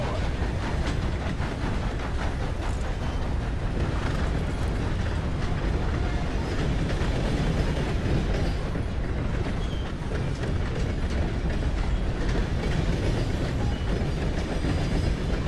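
Steam train running in the Red Dead Redemption 2 video game, a continuous loud rumble of rolling wagons with steady clickety-clack and mechanical rattling throughout, no voices over it.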